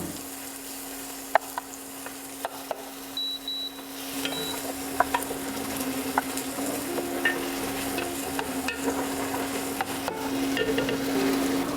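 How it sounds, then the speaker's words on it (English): Onions and garlic sauteing in a pan, a steady frying sizzle with intermittent stirring scrapes and clicks, close and continuous, a beep heard early on. "You're going to saute your onions and your garlic just for a couple of minutes."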